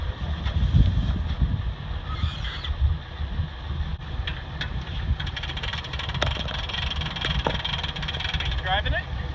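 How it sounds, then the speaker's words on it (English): A motorboat engine runs low and steady as the boat is driven up onto its trailer at the end of a day on the water, a continuous near rumble with brief squeaks and people talking over it. "Driving the boat up on the trailer now."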